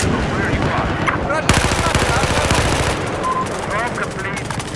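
Rapid automatic gunfire in Battlefield 4 multiplayer on the Hainan Resort map, dense bursts of rattling shots mixed with distant battle noise, with players talking over the top.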